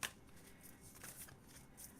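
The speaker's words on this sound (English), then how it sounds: "it is a little difficult to shuffle just because of the newness of the deck." A new, stiff tarot deck is shuffled by hand, the cards riffling and slapping in several quick bursts close to the microphone, with no talking.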